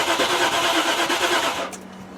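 Range Rover engine cranking as the ignition key is turned, a steady whirring starter rhythm that fails to catch, then drops away to a faint hum.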